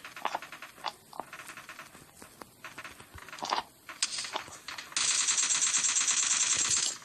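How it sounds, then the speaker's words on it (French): Rifle fire in the PUBG video game comes as scattered sharp single shots, then a sustained rapid burst of automatic fire near the end, loud and close. "j'ai tiré tout autour de lui, mais pas sur lui"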